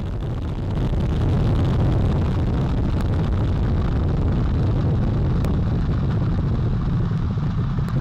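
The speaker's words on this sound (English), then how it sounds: "All 4 RS-25 engines on the core stage and 2 solid rocket boosters now propelling the vehicle at 128 miles per hour." Artemis I lifting off, its core stage's four RS-25 engines and two solid rocket boosters firing together; a loud, continuous broadband roar holds steady from start to finish with no voices.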